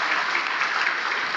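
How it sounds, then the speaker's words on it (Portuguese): A church congregation applauds during a Portuguese-language sermon, producing loud, continuous clapping from many hands in a sustained, even wash with no voices on top. "vamos aplaudir mais ao nome de Jesus"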